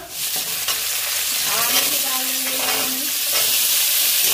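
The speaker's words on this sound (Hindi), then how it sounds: "जीरा टकने देते हैं" Cumin seeds crackle and sizzle in hot oil in a pan, a dense steady frying hiss with utensil stirring scrapes in the middle, close and moderately loud, with no one talking.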